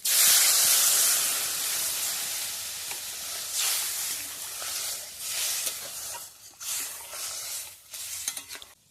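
Water hits a hot pan of vegetarian banana curry and erupts in a loud hissing burst that slowly settles into a bubbling sizzle with scattered crackles; no one speaks.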